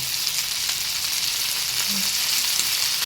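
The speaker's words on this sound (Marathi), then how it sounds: "अशें उबें करून सायडी भाजून घेवपाचें" Stuffed mackerel frying side by side in a pan, a loud dense sizzle that holds steady and close throughout, with a brief clatter at the very end.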